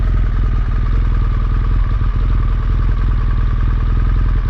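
A BMW R1200GSA adventure motorcycle ridden off-road on dirt, its steady loud engine drone running continuously with rattles and clatter from the rough ground, no voices.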